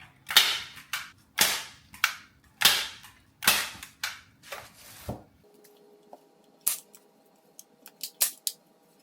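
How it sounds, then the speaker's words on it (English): A staple gun fires into fabric stretched over a frame for ombre textured wall art, about a dozen sharp, close snapping shots in an uneven rhythm, the later ones quicker and lighter, with no voices. "I'm going to just begin to staple it"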